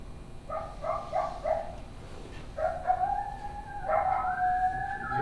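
Recorded coyote call played back at a predator calling workshop: a quick series of high yips and short barks, then drawn-out wavering howls, moderately loud over a steady background hiss with no talking.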